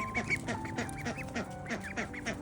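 Ducklings quack in quick, repeated bursts, a close and lively cluster of calls overlapping one another outdoors.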